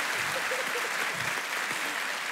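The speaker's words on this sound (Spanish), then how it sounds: "Mira, aplauso de la gente." Audience applause fills a conversational podcast studio, a steady wash of many hands clapping at moderate level, with faint voices murmuring underneath.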